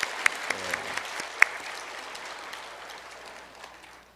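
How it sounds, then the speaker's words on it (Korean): Church congregation clapping together during a Sunday service, a short steady burst of applause that fades out over a few seconds. "우리 박수 한번 하겠습니다"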